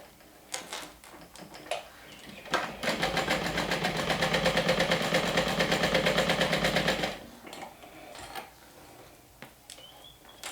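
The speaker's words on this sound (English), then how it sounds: "Let's go ahead and do 2 lines of stitching" Sewing machine stitching fabric straps, running in a steady fast rhythmic whir for about four seconds after a few brief starts, close, with quiet handling noises before and after.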